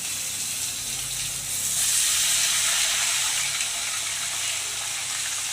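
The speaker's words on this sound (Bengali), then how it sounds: "গোবিন্দভোগ চালটা একটু তেলের মধ্যে ভেজে নিচ্ছি।" Washed Gobindobhog rice fries in hot oil in a home kitchen, giving off a continuous bright hiss and sizzle that swells partway through and then settles.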